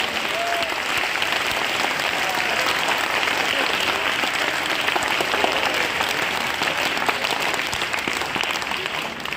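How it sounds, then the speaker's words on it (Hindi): A large crowd at an Arya Samaj school gathering applauds loudly for the school's teachers, a dense, steady wash of clapping that fills the whole stretch without pause. "इनके लिए हाथ उठाकर ताली बजाओ जोरदार एक बार।"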